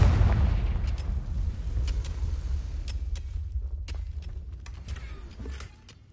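The Confringo fire spell in the video game Hogwarts Legacy lets off a loud, deep rumbling explosion that opens strongly, fades slowly over several seconds, and is followed by faint scattered crackling debris.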